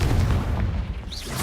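Confringo fire spell detonating in the Hogwarts Legacy video game, a loud, dense low boom that fills the short moment and rumbles on without a sharp decay.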